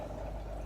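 Water pouring from a net of live fish food back into a tank, a brief faint splashing trickle heard close and alone.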